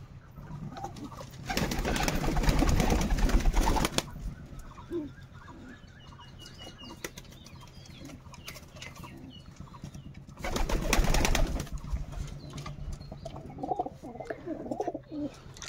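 Pigeons and doves coo in a home loft, two louder stretches of dense, overlapping cooing rising above a steady low murmur of birds, with no talking.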